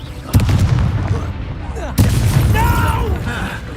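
In a wizard video game, two loud Confringo spell explosions go off a second and a half apart, each a deep blast with rumbling tail, while voices speak over the noise.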